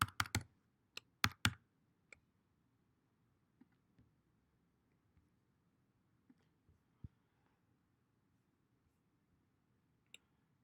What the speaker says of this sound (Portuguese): Aqui você digita o seu login e aqui você vai digitar a sua senha.